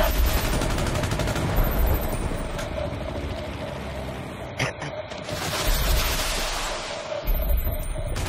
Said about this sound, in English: there are bullets all over the place